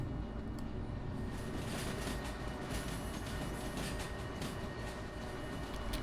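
Steady rumbling of a video game train rolling along rails in Derail Valley, a continuous dense low roar with rattling texture throughout, no voices.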